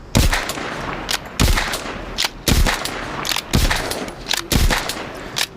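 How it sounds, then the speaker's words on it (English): Rapid bursts of gunfire from emptying a whole magazine, loud and close, coming in about five dense volleys roughly a second apart with brief gaps between them. "shoot your mag,"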